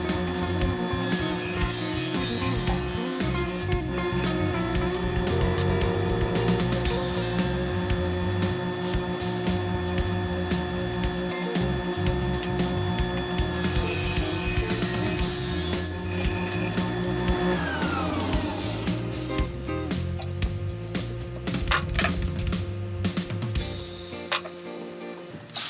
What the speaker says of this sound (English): now that we have the table saw set up, I will run the actual pieces through and cut that notch in the poplar banding